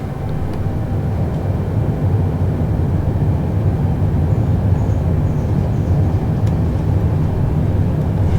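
Boeing 787 engines spooled to full throttle in a flight simulator game, a loud, steady, dense roar with a deep low rumble that holds constant throughout without pause.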